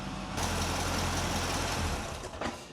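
A car engine idling during an oil change and fuel-system cleaning, a steady close low rumble with broad noise, fairly loud and constant, with a small bump near the end and no voices.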